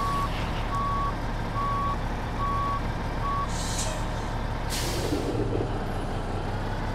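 A tractor-trailer hooks up a trailer in American Truck Simulator, with steady reversing beeps over a loud diesel engine drone, then short hissing air-brake bursts near the end.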